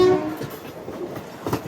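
The Nagarsol Superfast Express (12787) pulls away from Warangal station with a brief horn tone at the start, then a steady rumble and faint clatter of wheels over rails, close and loud, with no talking.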